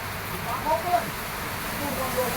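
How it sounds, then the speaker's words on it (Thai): Heavy afternoon rain falling steadily outdoors, a soft continuous hiss that fills the whole stretch at moderate level, with a few faint bird-like chirps poking through. "โอ้ฝนตกหนักมากนะครับ"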